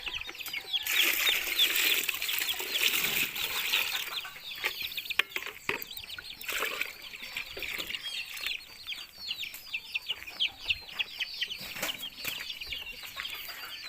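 Chickens cluck and chatter inside a chicken house, a busy flock close by with repeated calls, scattered squawks and occasional wing flapping, and no voices.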